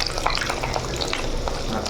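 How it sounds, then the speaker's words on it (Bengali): Eggs seasoned with turmeric and salt fry in hot oil and are flipped in the pan: a loud, close sizzle with scraping stir and turning noises and a few sharp pops, no voices. "ভেজে দিচ্ছে, উল্টে দিচ্ছে।"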